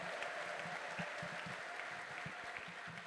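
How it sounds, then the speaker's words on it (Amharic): Faint, distant rhythmic clapping from a church congregation during a sermon, steady beats repeating about three times a second over a soft crowd background. "ለዚህ ቃል ጭብጨባ እልልታ ያለው ሰው ያጨበጭባል"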